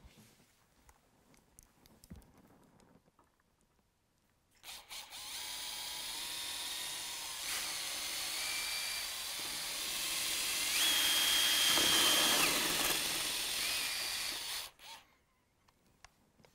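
A Festool cordless drill with a Forstner bit whirs steadily for about ten seconds boring a hole in a door, rising slightly in pitch mid-run, then stops, with quiet clicks before and after.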